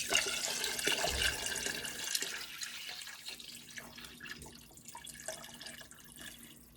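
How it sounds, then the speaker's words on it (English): Water runs from a tap into a pot of broken-up tomatoes for homemade spaghetti sauce, a steady close splashing gush that softens into lighter trickling and dripping over several seconds. "Now we're going to add water."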